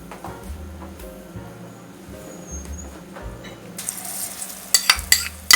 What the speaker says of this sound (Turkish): Bayağı bir kavruldu salçasıyla da kavrulsun.